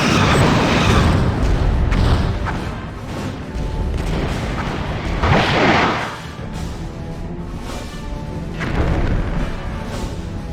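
Forward photon torpedoes launching from a starship in Star Trek Bridge Commander, a dense battle mix of repeated booming thuds and rumbling bursts, with stronger impacts near 5.5 and 9 seconds over a steady low rumble.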